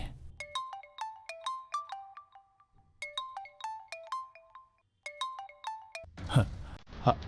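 A phone ringtone plays a repeating melodic phrase in several bursts, then stops and gives way to brief rustling noise.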